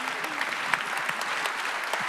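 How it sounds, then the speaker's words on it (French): An audience at a ceremony honoring major partners applauds steadily, a dense, even clapping from a crowd in a hall, with faint voices mixed in. "Maître Liévin Gondji, Maître Richard Sédio, applaudissements à vous"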